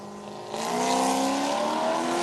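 A Corvette race car on a circuit track, its engine note rising sharply into a loud, sustained roar close by, with no talking.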